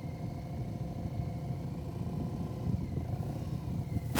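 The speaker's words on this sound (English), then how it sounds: "I'm keeping up that engine rev." A motorcycle ridden slowly past at low speed, engine held at a steady rev with a continuous mid-low drone that swells slightly as it passes, no speech.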